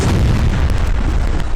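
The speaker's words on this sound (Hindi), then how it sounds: "तीसरा धमाका।" Deep, booming explosion rumble, loud and sustained throughout, with a dense low-end roar; the third of three blasts near Al-Shifa Hospital in Gaza.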